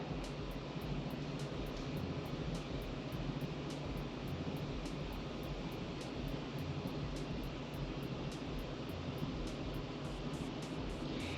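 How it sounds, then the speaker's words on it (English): An electric HisoHu height adjustable computer desk motor whirs steadily as the desk rises, a continuous low hum with faint regular ticks above it, alone without talk. "There's a little bit of a whirring sound, but it's not bothersome"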